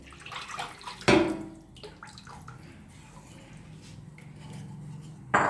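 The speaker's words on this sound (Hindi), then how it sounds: "और इसको हम लगातार चलाएंगे जब तक ये खौल नहीं जाएगी" A spoon stirs besan and curd kadhi batter in a cooking pot, making soft wet swishing with sharp metal clinks against the pot near the start and again at the end. No one speaks.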